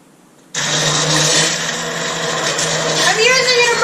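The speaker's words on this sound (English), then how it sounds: "I'm using an immersion blender." An immersion blender whirs loudly through soup, starting abruptly after a brief quiet moment and running steadily close to the microphone, its pitch shifting slightly near the end.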